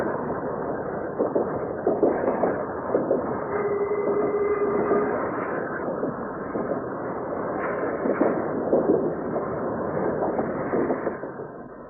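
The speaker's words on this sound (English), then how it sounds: "here it is, the sound of a pantograph wiping across wet wires" An old Mumbles Railway electric tram, 600 volts DC, with its pantograph wiping across wet overhead wires: a continuous rumbling, hissing run with a brief whining tone, steady and fairly loud throughout, no talk.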